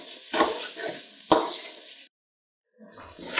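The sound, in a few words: onions frying in oil for stuffed eggplant curry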